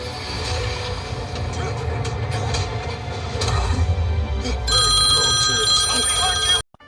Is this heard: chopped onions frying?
no